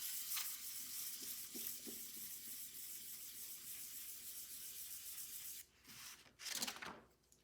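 A burr on an Edison Gem phonograph mandrel is sanded with 600-grit sandpaper on a flat aluminium block, producing a continuous close, hissing rub with quick strokes, then a brief pause and a few final louder swipes.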